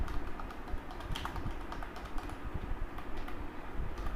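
Computer keyboard typing as printf code is entered in C, a steady stream of close, crisp key clicks with uneven rhythm and no voices.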